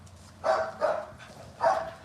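Ruby, a small dog, barks three times in quick, sharp bursts close by, with short pauses between them.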